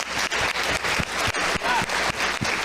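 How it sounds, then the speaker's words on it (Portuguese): A church congregation applauds with dense, continuous clapping that fills the room, loud and sustained throughout with a faint pulsing rhythm, under a murmur of voices. "Aplauda ao Senhor."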